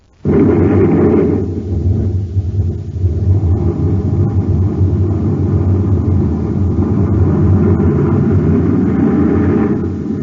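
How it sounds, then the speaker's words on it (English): A rocket blastoff effect from an old science-fiction radio drama: a deep, loud, sustained roar that bursts in suddenly and rumbles steadily for about ten seconds, swelling slightly at moments. "Stand by to fire rockets, Happy."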